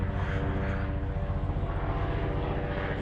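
A firefighting aircraft carrying a water bucket passes overhead, a steady loud droning engine roar with rich harmonic hum that holds throughout without speech.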